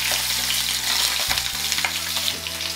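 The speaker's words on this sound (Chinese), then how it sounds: "我们再反面煎一下。" Yellow croaker frying in hot oil in a pan, a steady close sizzle with crackling bursts and brief stirring or turning noises partway through.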